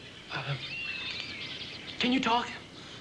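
Bird chirps in an audio drama scene: a short twittering call early on, then a louder burst of chirping near the end over a quiet room-tone background.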